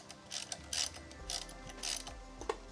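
A ratchet wrench clicks in short bursts as bolts are snugged down on the top end of an Arctic Cat H1 engine, close and fairly quiet, with brief pauses between runs of clicks.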